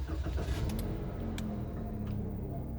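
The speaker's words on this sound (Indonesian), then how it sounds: "Nah, ini dia suara mesinnya." A 2023 Toyota Agya 1.2 G starts with a push-button and settles into a steady, low, continuous idle, close and fairly loud, with brief higher bursts near the start.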